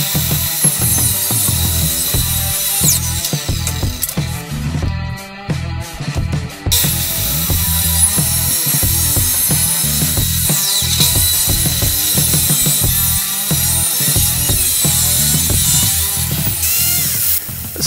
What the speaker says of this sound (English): It's just an angle grinder with a sanding disc on